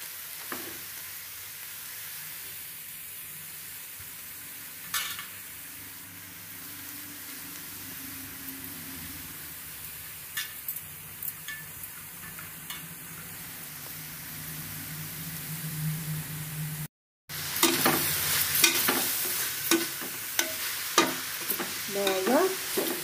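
Grated carrot frying in butter for carrot halwa makes a soft, continuous sizzle with occasional spoon scrapes from stirring, growing louder and busier after a short gap.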